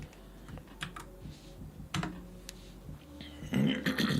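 Typing on a computer keyboard, a close run of irregular clicks and clacks with short pauses and a louder cluster near the end.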